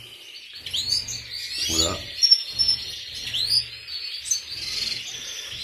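Agate canaries in breeding cages chirp and trill in bright, rapid bursts that overlap throughout, close by, while someone talks briefly over them.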